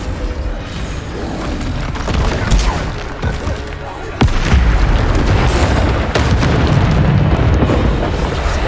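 A Bombarda spell blasts in combat in the video game Hogwarts Legacy. Loud, booming explosions and sharp pops come in repeated bursts over a dense rumble of battle effects.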